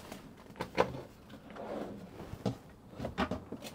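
Kitchen drawers in a Giottiline C60 camper van on a Peugeot base are slid open and shut, producing several short knocks and sliding clunks at irregular moments, close by and fairly quiet.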